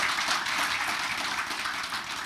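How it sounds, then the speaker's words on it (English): Applause at a township committee meeting for a student's nomination, steady clapping from a room of attendees lasting a couple of seconds at moderate level. "Let's clap"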